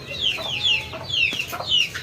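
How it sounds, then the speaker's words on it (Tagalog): A chicken clucks close by in a short run of quick, bright calls, with no talking over it. "Ayan yung manok na yan sa auntie ko yan."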